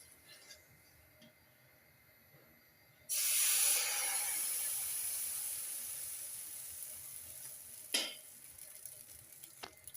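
Appam batter for vellappam hits a hot pan with a sudden loud hiss partway through, then the sizzle slowly fades, with a brief clatter near the end; no voices.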